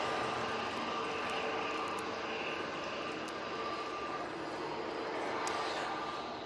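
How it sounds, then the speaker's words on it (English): An EasyJet airliner departing for Barcelona gives a continuous far-off jet engine rumble, steady and fairly faint, with no one speaking over it. "Next out should be the EasyJet to Barcelona that I called a few minutes ago."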